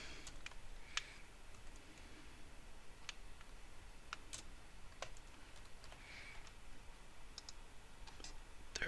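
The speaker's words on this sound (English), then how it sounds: "you should be able to just type" Light, irregular clicks of a computer keyboard being typed on, a few scattered keystrokes at a time over a faint steady hiss, close and quiet with no speech.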